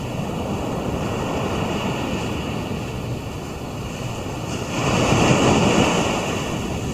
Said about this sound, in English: Can you hear that sea?